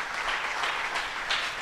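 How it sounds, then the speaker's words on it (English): A church congregation at a midweek service claps for Jesus, a brief burst of dense, steady applause from many hands in a room. "Shall we clap for Jesus?"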